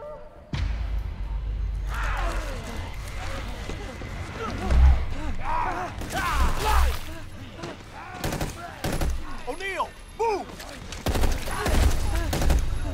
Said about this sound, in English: Gunfire, what's going on?